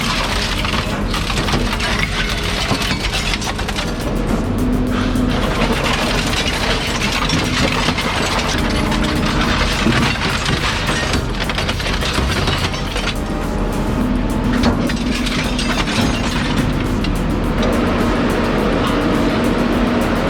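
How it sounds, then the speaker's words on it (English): Petzolto wood chipper shredder crushing and splintering scrap wood, a continuous loud engine drone with steady grinding and crunching throughout, no talk. "This Petzolto chipper looks like it means business."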